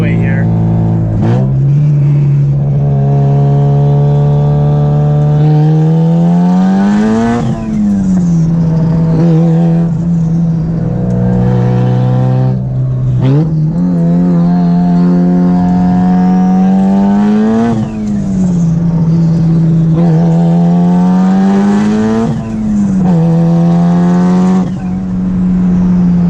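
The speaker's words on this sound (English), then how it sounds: "We're going to do a little bit of point of view driving on the freeway here" A 510 whp Mitsubishi Evo 8 driving on the freeway, its engine loud and close from inside the car, revving up through several gear pulls with drops between shifts, and a voice now and then.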